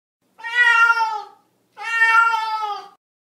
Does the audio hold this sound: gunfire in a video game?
no